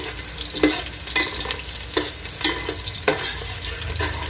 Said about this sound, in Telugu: ఎండుమిర్చి, సన్నగా తరిగిన మిరపకాయలు, తర్వాత సన్నగా తరిగిన ఉల్లిపాయలని వేసుకొని బాగా ఫ్రై చేసుకోవాలి.